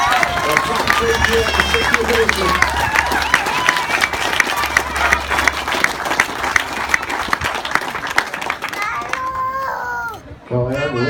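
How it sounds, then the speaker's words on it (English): A crowd applauds at the presentation ceremony after the final stage of a cycling tour, with loud continuous clapping and cheering, an announcer talking over it and children's voices in the mix. "Give another big round of applause."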